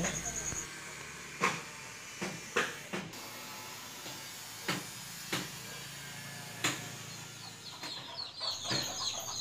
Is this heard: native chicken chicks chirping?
yes